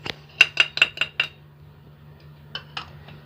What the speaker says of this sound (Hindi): इसे हल्का सा मिक्स कर लेंगे हम, ताकि अच्छे से मिक्स हो जाए।